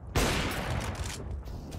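Counter-Strike gunfire from a silenced M4 during a Furia vs 1Win match, a sudden burst of muffled shots that starts abruptly and carries on as dense, fairly loud rattling for under two seconds.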